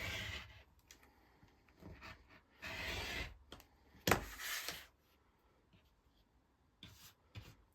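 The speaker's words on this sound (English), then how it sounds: "and then we'll trim these 2 outside edges." Rotary cutter or blade trimming the outside edges of a fabric quilt block, several short scraping, rubbing strokes in quick bursts, fairly quiet and close, with pauses between cuts.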